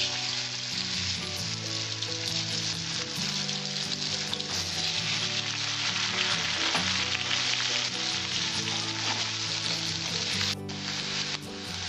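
Potatoes fry lightly in oil with a continuous, even sizzle that holds steady from start to finish, fairly quiet and close, with no voices over it.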